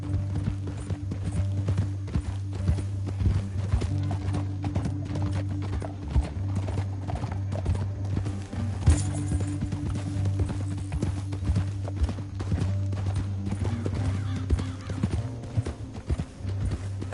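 Horse hooves clip-clop in a steady rhythm over a constant droning hum in Red Dead Redemption 2, with an occasional whinny and clanking mechanical sounds.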